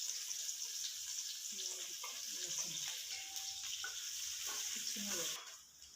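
Onion and garlic frying with asafoetida in a pan for arbi and potato curry, a loud continuous sizzle with light stirring that drops away abruptly at the end.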